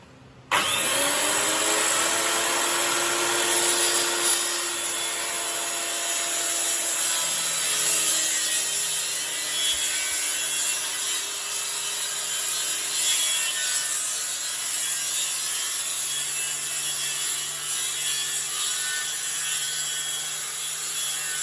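A power saw spins up and cuts a wooden spline strip for model railway roadbed, a loud, steady, high whine with a grinding cutting tone that runs close and unbroken for the whole stretch.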